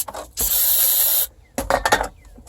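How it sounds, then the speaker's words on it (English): Mass airflow sensor cleaner sprays in a steady, loud hiss for about a second into a heater part of a 2000–2006 Chevy/GMC truck, followed by a few shorter bursts and rattles. "You can use tuner cleaner or mass airflow sensor cleaner."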